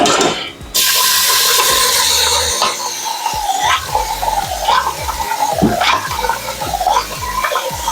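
Water pours steadily into a pot for cooking pasta, splashing and gurgling, with a few clinks and knocks mixed in, close and fairly loud.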